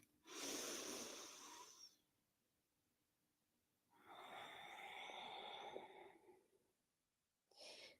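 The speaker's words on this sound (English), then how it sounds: "And one more breath." Slow, deep breaths during a relaxing yoga session, with two long breathy exhalations a few seconds apart and the start of a third, close and quiet with hushed gaps between.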